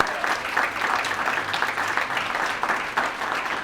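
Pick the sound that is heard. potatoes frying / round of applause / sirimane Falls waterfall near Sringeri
round of applause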